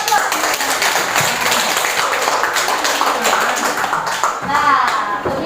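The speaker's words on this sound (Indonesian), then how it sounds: "Berikan aplaus." A classroom audience claps for several seconds in a quick, even patter. Voices are heard alongside the clapping.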